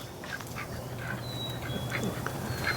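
Free-range ducks wintering in a lean-to on a cold morning quack repeatedly at a moderate distance over steady outdoor background noise.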